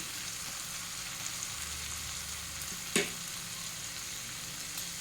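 Chopped tomato frying in oil for chicken curry keeps up a soft, steady sizzle, broken by one sharp clink of a spoon or spice being dropped into the pan, with no talking.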